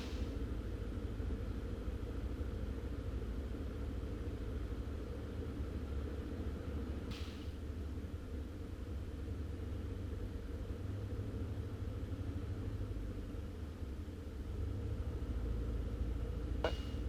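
Light aircraft engine running steadily in the cockpit, a constant low droning rumble with no change in pitch, broken only by a couple of faint clicks.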